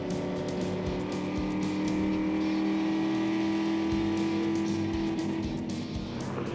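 A race car driving at speed on a track, its engine a loud, steady, sustained roar with a constant pitch and occasional brief surges, heard close up with no talking.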